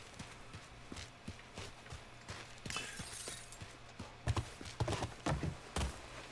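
Donkey hooves clip-clop in the Mafia 3 video game, a run of light, fairly quick hoof knocks over steady ambient background. Several louder, sharper impacts come near the end.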